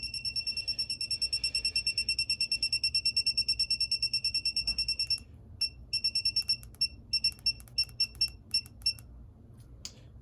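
An electronic torque wrench being set for an engine mount bolt gives a rapid run of high electronic beeps for about five seconds, then a slower, irregular series of shorter beeps, loud and close over faint background noise.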